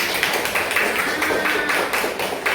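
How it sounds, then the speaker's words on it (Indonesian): A school class claps hands together in a steady, brisk round, the claps close and fairly loud, filling a classroom with a dense patter of slaps. "Oke, tepuk tangan untuk semua kita ya."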